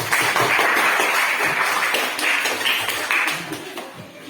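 Classroom applause for three student groups after a prism-making activity: dense, steady clapping from many hands that holds for several seconds and then thins slightly toward the end.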